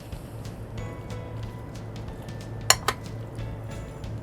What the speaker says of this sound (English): I'm going to stir them around a little bit.